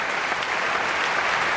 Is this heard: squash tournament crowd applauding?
yes